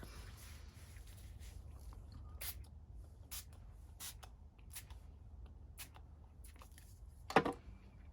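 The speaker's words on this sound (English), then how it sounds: "Now I'm going to go in with my Vintage Photo Distress Spray." Tim Holtz Vintage Photo Distress Spray misted over a craft project in short, faint spritzes, several brief hissing bursts spaced irregularly against a quiet room, ending with a slightly louder handling knock.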